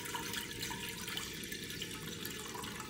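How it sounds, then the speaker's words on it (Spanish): Water runs and splashes into a cooking pot in a soft continuous stream, with small drips and gurgles, close by and fairly quiet. "y le echamos el agua"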